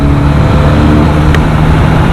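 A QJ Motor SRK 400 motorcycle pulls hard under acceleration, its engine a loud, steady droning hum with a strong low tone held for the whole short stretch.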